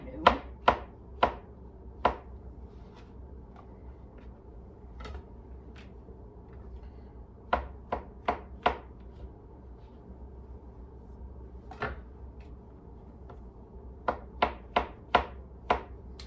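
A kitchen knife chops on a board in scattered clusters of sharp, close taps with quiet gaps between them, against a low steady background hum.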